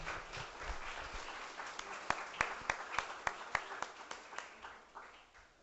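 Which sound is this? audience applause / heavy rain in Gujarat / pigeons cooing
audience applause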